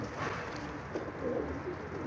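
Low, soft pigeon coos repeat a few times against constant outdoor noise as birds fly about and settle, faint and not close.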